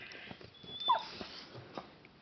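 A black dog whines and whimpers softly in a thin, wavering, sing-song voice, with a few faint yips in a quiet room.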